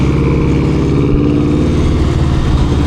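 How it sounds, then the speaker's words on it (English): A Subaru WRX engine in Los Angeles traffic gives a close, loud, steady engine drone with a rough, throbbing low rumble throughout, heard amid street noise with no talking. "Sick WRX right here. Sounds good."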